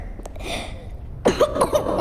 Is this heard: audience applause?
no